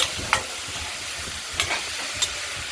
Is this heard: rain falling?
no